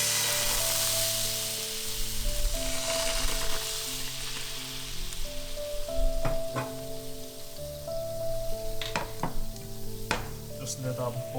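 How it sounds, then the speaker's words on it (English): Sherry bubbling and sizzling in a hot pan with cooked chicken liver, a steady close frying hiss with scattered pops and a few sharp utensil clicks against the pan. "Just let that bubble a little."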